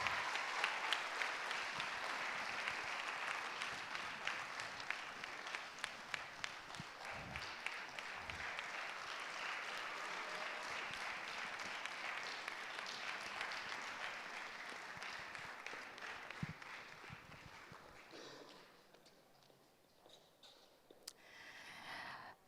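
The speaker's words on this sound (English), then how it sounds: "A round of applause to her." Audience applause rings out for a woman welcomed onto the stage at a career panel discussion, steady dense clapping sustained for about twenty seconds before thinning out near the end.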